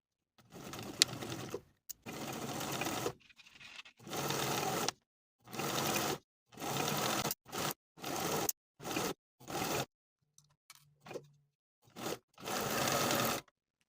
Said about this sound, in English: We're going to sew together the outer edges of the pocket from one corner all the way around to the other